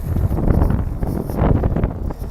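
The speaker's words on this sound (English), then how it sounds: "It is really windy out here" Strong gusts of wind buffet an open plaza in Flushing Meadows–Corona Park at sunset, a steady loud broadband roar and rumble across the whole stretch with no speech.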